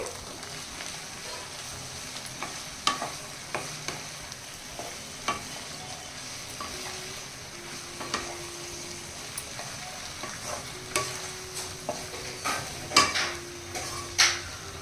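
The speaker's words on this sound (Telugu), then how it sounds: "ఈ పొడి వేసేసుకున్న తర్వాత ఒకసారి బాగా కలపాలండి" Eggplant fry with cumin-garlic powder is stirred in a pan, with a soft steady sizzle and a series of light scrapes and clinks that come at irregular intervals and grow louder toward the end.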